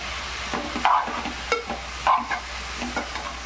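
A spoon stirs sweet potato pieces in a pan on the stove for sweet potato kheer, giving soft scraping strokes and a few clinks over a faint, steady sizzle, with no talking.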